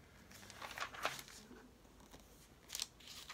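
Scissors snipping through glossy magazine paper, a few close crisp cuts and rustles of the page, quiet and without speech.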